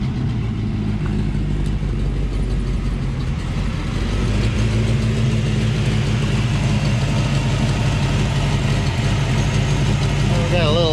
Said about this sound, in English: We got a little exhaust leak or something maybe over here.